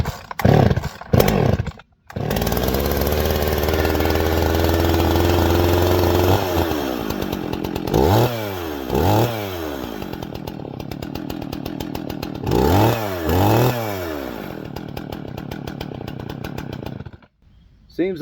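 A restored Husqvarna 51 chainsaw fires up after a few pulls and runs loudly nearby, idling roughly and then revving up and down in repeated bursts before cutting off.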